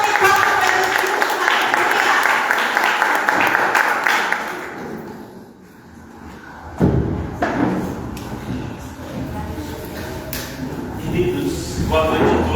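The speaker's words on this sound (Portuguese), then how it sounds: "Dá uma salva de palmas para Jesus" A church congregation claps for several seconds, the applause fading out midway, followed by thumps, knocks and voices as people speak in the room.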